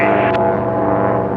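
Race biplane at a national championship air race roaring past on the home stretch toward the finish line, a loud, steady engine and propeller drone with a rich harmonic buzz that holds throughout.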